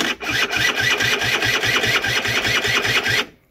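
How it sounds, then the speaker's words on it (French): A Rieju RS3 motorcycle is started electrically, and its engine runs with a fast, even mechanical pulsing for about three seconds, close and loud, before cutting off abruptly. "Démarrage électrique."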